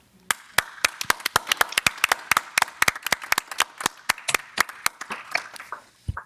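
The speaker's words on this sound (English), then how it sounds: "let's first applaud to all of you who did a wonderful job" Applause from an audience at a youth day business case event, sharp clustered claps rising and falling in uneven rhythm for about six seconds, fairly close, with no talking over it.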